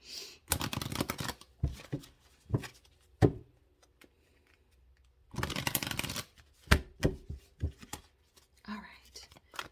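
A Mermaid oracle card deck is shuffled close up in quick riffling bursts, the crisp flutter of cards coming in several spurts with pauses between.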